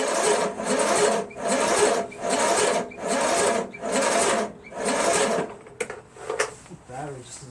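A Briggs & Stratton flathead engine on an MTD Cub Cadet 13.5 lawn tractor cranks over on a weak battery, six slow, labored churning bursts in a steady rhythm, then stops, followed by a few clicks and rattles.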